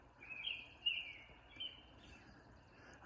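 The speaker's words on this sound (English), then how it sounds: "As the sky lightens, the dawn chorus is kicking in. Got at least 3 American robins singing," Several American robins sing in a dawn chorus, their faint, distant phrases carrying over a quiet outdoor background in short repeated bursts.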